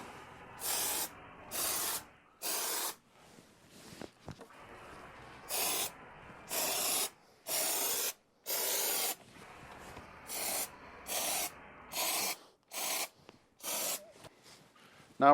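BEEST spray foam hisses onto a box in a string of short, close bursts, each about half a second to a second long, separated by brief quiet pauses with faint background noise between them.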